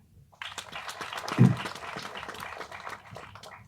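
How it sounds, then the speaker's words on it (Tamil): A crowd claps at a Tamil cinema stage event in honour of a veterinary college doctor. The applause is soft and slightly distant, swells after a quiet start, peaks briefly and then settles into a steady patter. "கைத்தட்டுங்க"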